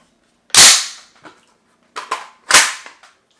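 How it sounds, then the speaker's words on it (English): AR-15 pistol being racked by hand, sharp loud metallic clacks of the charging action, one snap followed by a lighter click, then a double clack and a final sharp snap as the bolt locks back. "And I'll rack it a few times. Actually lock the bolt back."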